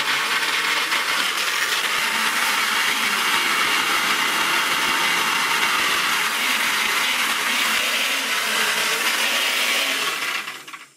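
A loud blender crushing ice runs at full power, grinding harshly and continuously for several seconds before cutting off abruptly.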